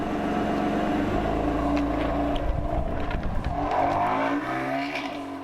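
A BMW M4 GTS with a 3-litre twin-turbo six-cylinder engine drives by with a loud, continuous engine drone and road and wind roar, the note shifting as it accelerates, with no talk.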